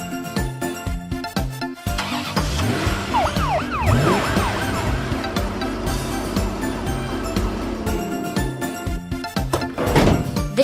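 A police car siren from a kids' cartoon wails in rising and falling sweeps over bright background music, with cartoon sound effects around it.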